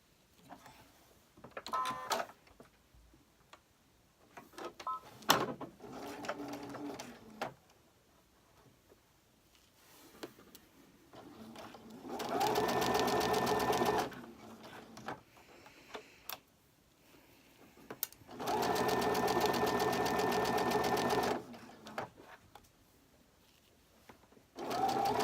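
Scattered clicks and short stitching bursts from a sewing machine working on a quilt block lead into two longer, even runs of close, steady machine whirring, separated by quiet handling noises, with no voices.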